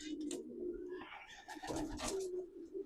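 Pigeons coo steadily inside a breeding loft, soft repeated throaty calls layered close together and continuing throughout with no speech.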